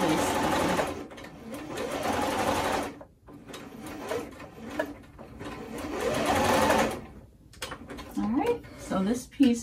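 A domestic sewing machine basting a lace overlay onto cardigan fabric runs in quick rattling stitching bursts separated by short pauses, close up, with a voice speaking over parts of it.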